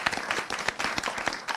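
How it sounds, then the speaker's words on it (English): An audience at a British Science Week evening discussion event claps in a short, dense burst of applause, with individual hand claps standing out close by. "We'll give her another round of applause."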